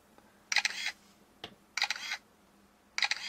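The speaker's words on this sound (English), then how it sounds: "if I hold down the space bar, sometimes it'll do a speed shutter" A webOS phone's camera firing a speed-shutter burst gives three clusters of sharp mechanical shutter clicks about a second apart, with one short lone click between them, crisp and close against a quiet room.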